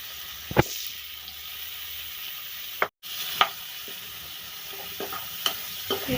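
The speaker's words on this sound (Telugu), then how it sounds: "ఇప్పుడు ఇందులోనే ముందుగా మనం కట్ చేసి పెట్టుకున్న పచ్చిమిర్చి ఇంకా ఆనియన్స్ వేయించుకుందాం" Chopped green chillies and onions frying in oil in a pan for a dry fish and egg curry, with a soft continuous sizzle broken by several sharp spatula scrapes and stirring knocks, close and moderately quiet.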